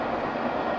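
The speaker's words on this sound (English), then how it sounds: "Got a good shot of the cars bouncing off the crossing there" BNSF freight train cars roll over a railroad crossing, giving a loud, continuous rumble of wheels and car bodies passing close by.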